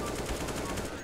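Rapid automatic gunfire from CS:GO sprays into the ground in a dense, continuous burst with no talk.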